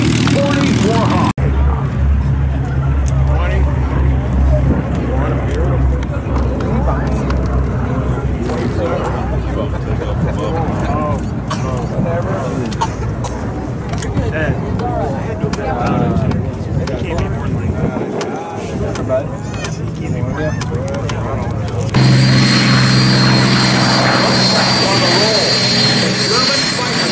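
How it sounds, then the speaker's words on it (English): A P-40 Warhawk fighter roars past low and fast at an airshow, its loud engine sustained over crowd noise while an announcer talks throughout. "Coming from the left, low altitude, high speed, the P-40 Warhawk."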